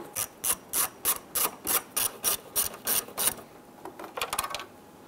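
Ratchet wrench loosening 7 mm screws on a 1995-2001 Ford Explorer headlight bezel panel: about a dozen crisp, evenly spaced clicks, then a quicker burst of ratcheting, close up with no talk.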